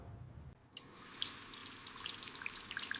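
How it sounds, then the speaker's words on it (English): Water running from a tap into a sink during handwashing, starting after a short quiet moment and continuing as a soft steady stream with light drips and splashes, faint and close. "Let's wash our hands, Mia and Leo."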